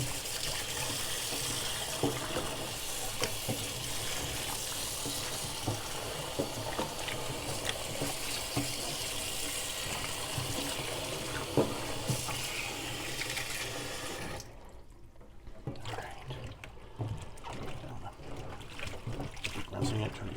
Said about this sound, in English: rinsing it, trying to get that salt off of there.